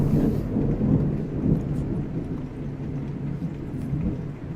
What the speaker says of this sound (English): stop being atmospheric, Thunder.